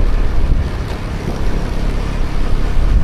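Steady wind roars over an open sea during slingshot fishing, a continuous broadband rush with gusty swells in level and low rumbling buffeting, heard alone with no voices.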